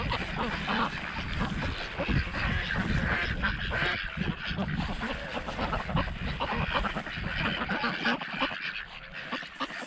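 A noisy flock of geese and ducks being fed honks and quacks continuously, close and overlapping, with a faint voice under the clamor.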